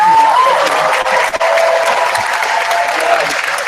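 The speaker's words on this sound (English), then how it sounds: "huge round of applause to them" Conference audience applauding in a large hall at a morning kickoff and keynote, a steady dense wash of clapping close and loud throughout, with a brief dip midway.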